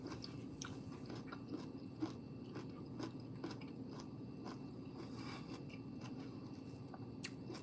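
Crunchy stir-fried broccoli being bitten and chewed, a series of crisp crunches and clicks over a low steady background, fairly faint and close.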